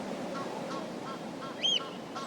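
Ducks at a pond give a few faint, nasal honking calls over steady outdoor ambience, with one louder, sharper call near the end.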